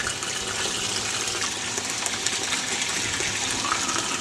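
Steady rushing water flows loudly and continuously through a homemade gold sluice, a broad even gush with no voices.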